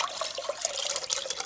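Sweet and sour sauce pours into a pan on the stove, giving a brief, close, liquid splashing and trickling sound with no talk.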